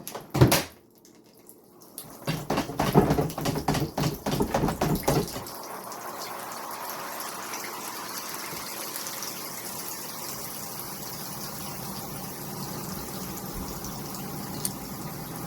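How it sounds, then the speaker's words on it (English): Water drains out of a container after wool batts are dyed, with a few clunks and a splashy gush at first, then a steady, faint trickling flow that runs on alone. "I usually let this run just until the water quits actively coming out"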